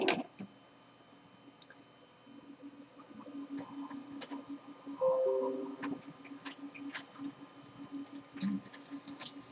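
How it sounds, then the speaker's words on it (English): A desktop printer runs through a print job, giving a steady mechanical whir with repeated clicks and ticks that build and fade over several seconds, fairly close and alone without talk. "Okay, it's printing now."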